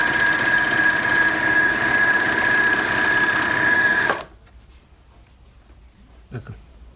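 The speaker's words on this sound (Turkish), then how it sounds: "Şimdi burada 0'a 0 3 iplik normal overlock yaptım." A Bernina L450 overlock sewing machine stitches fabric with a three-thread overlock, a loud steady mechanical whir with a high whine that stops abruptly partway through, followed by near silence and a faint knock.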